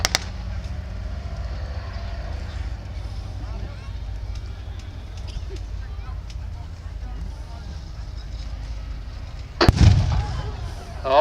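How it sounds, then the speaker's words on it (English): German artillery fire shelling a position during a wartime battle reenactment in Yorkshire: a low, continuous rumble with a sudden loud blast near the end, heard under background talk. "Obviously the German artillery has been zeroed in onto the position of the reconnaissance regiment."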